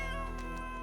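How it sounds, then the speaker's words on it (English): A cat gives a brief, faint meow under a steady electronic hum, lasting less than a second. "The bloody cat returned."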